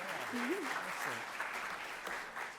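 An audience at the University of Baltimore business competition claps after a presentation. The applause is fairly quiet and sustained, with a voice speaking over it.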